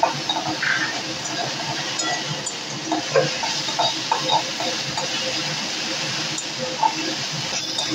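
Jute leaves (pat shak) fry in a pan while being stirred, a steady sizzle punctuated by repeated clinks and scrapes of a utensil against the metal.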